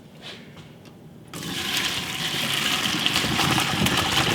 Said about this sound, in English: pour the water away from you into a colander.